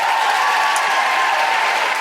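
An audience at a comedy show applauds a comedian, producing a dense, uniform wash of clapping that holds at a constant loud level with no talk over it.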